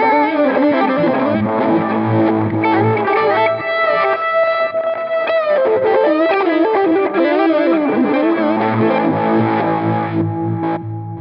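Electric guitar run through a Line 6 Helix with a vibe effect layered over TS-style overdrive, a big, thick, distorted tone with swirling modulation, played continuously and loud throughout with sustained chords and melodic lines, no voices.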